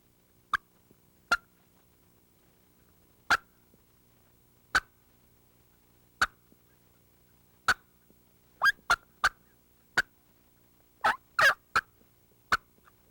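A hunter's mouth call imitates a wild turkey, giving sharp isolated clucks spaced a second or more apart, then quickening into a cluster of excited cutting notes, crisp and close against a quiet background.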